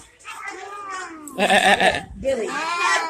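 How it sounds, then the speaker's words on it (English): Baby goat bleating at a petting farm, several wavering high cries in quick succession, close and fairly loud, with people talking around it. "Oh, the goat."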